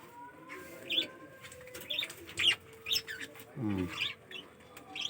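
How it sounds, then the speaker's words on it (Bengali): A pair of green-cheeked conures gives short, high chirping calls in repeated bursts, fairly close, with a brief low vocal sound partway through. "আর এখানে আছে আপনার গ্রিন চিক-কুনুর এক পেয়ার।"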